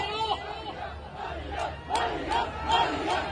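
A large rally crowd at Minar-e-Pakistan in Lahore chanting slogans in unison, rhythmic swelling voices with repeated shouted bursts, loud and crowded with background chatter.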